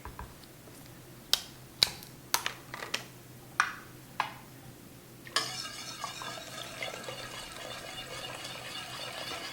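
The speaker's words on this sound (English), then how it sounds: "And I'll keep stirring it as I'm pouring it in." Vodka being poured and stirred into a coffee and sugar solution for homemade Kahlua: a run of sharp clinks from a utensil against the container, then a steady splashing pour, close and fairly quiet.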